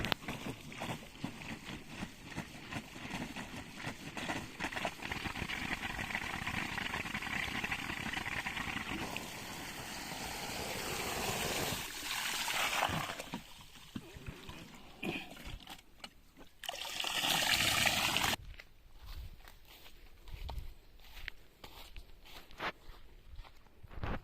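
A solar-powered water pump motor runs at a new borewell while its water is poured onto the pump's base, a broad rushing noise for about twelve seconds that then thins out and breaks into scattered softer sounds.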